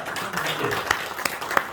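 Members at a Sungkyul University alumni general meeting applaud the newly declared association president. Scattered, fairly light claps ring out at an uneven rhythm over a low background murmur.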